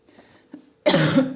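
A single loud, harsh cough bursts out close to the listener after a moment of near silence and faint breathing.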